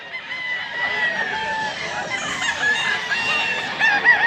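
A gray gamefowl rooster at a cockfighting farm in Mantalungon, Barili crows in a drawn-out call over a busy background of other birds and murmuring voices.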